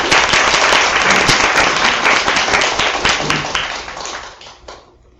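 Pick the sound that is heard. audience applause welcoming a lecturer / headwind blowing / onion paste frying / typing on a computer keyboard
audience applause welcoming a lecturer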